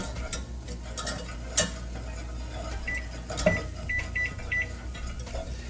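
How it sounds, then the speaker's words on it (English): Broth being whisked into a pan for an egg strata: a steady wiry stirring scrape with occasional sharper clinks of metal on the pan, plus a few faint electronic beeps in the background. "whisk in the broth and the next 4 ingredients until blended"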